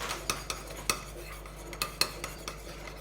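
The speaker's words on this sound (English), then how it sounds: "you need to mix it quite well so the aloe vera and the coconut oil will be one mixture all together" A teaspoon stirs aloe vera gel and coconut oil in a small dish, giving light clinking taps and soft scraping at an uneven rhythm, close and fairly quiet.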